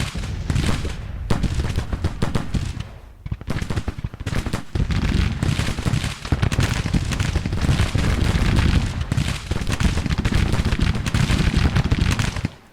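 Civil War musket and rifle volleys crackle in a tactical battle game, a loud, dense, ragged stream of overlapping shots that barely pauses, with a brief lull near the start before resuming steadily.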